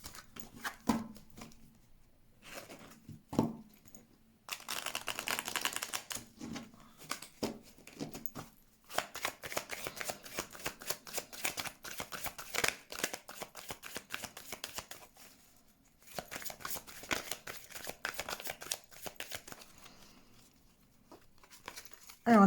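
Tarot cards are shuffled for a reading, a long close run of rapid riffling and flicking in bursts with brief pauses, paper crinkle between, no voices.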